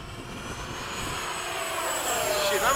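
An F/A-18 jet engine roars loud and steady, its whine slowly building in pitch as the aircraft powers up and takes off.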